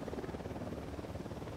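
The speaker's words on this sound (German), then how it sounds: "Heli fliegt da oben lang." A helicopter passes overhead in the video game Ghost Recon Wildlands, its rotor thumping in a steady pulsing beat at moderate distance, fairly quiet and alone without talk.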